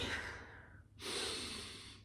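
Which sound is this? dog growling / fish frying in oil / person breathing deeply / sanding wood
person breathing deeply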